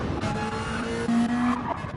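A race car pulls away from the pits after refueling at Suzuka, its engine note rising with a tire squeal, loud and near, then fading slightly.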